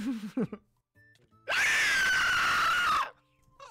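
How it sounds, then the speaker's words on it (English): A single person lets out a loud, sustained scream lasting about a second and a half, following brief, more distant vocal sounds and quiet gaps. "you screamed like a banshee."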